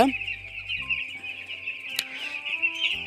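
Broiler breeder chickens on a poultry farm, a dense flock clucking and calling continuously nearby, with a few louder squawks standing out against the steady chatter.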